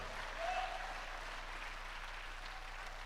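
Church congregation clapping during a sermon, a soft, distant, even patter of many hands with a faint raised voice near the start, continuing steadily throughout.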